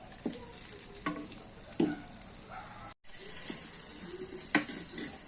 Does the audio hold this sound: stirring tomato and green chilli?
yes